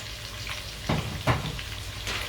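Pork belly and carrots stir-frying in a pan with oil, a steady hiss of frying broken by a couple of louder sizzling bursts as the food is stirred.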